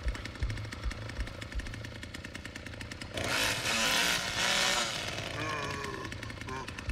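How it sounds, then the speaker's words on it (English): In the Texas Chainsaw Massacre video game, a chainsaw revs up loud and rough over a steady rhythmic game soundtrack, swelling for about two seconds before easing back down. "Play a little song on your chainsaw to soothe Grandpa."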